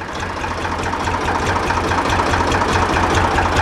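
A Ford 335 Industrial diesel engine, running on fuel mixed with an additive and some ATF, sits at low idle with a steady, close, knocking rumble and an even mechanical chatter.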